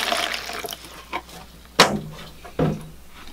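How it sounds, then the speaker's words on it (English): Water is poured into a tub of bonsai soil mixture, a rushing splash at first followed by a few sudden knocks and splashes as the liquid settles, close and moderately loud. "So I'll add some water and"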